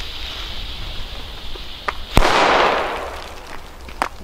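A single sharp D-Böller firecracker from a Weco Atomic Pack bangs out, followed by a broad hissing, crackling burst that lingers and fades; a couple of fainter pops come later.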